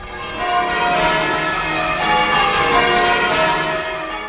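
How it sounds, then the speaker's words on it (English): A ring of church bells chiming continuously in changing order, bright overlapping tones ringing out steadily and fairly loud. "change the positions that the bells strike in each sequence"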